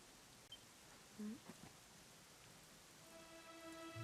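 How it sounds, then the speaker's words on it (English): Steady, faint rainfall in the fantasy role-playing game Dragon Quest XI, a soft, even wash of drops with a couple of brief tones rising over it near the end. "it was raining like this the last time I ever saw her."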